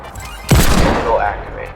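One loud, close gunshot in Fortnite Creative strikes a hidden trigger device, followed by a ringing in-game reverberation and short activation tail.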